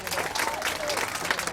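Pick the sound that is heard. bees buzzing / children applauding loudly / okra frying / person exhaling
children applauding loudly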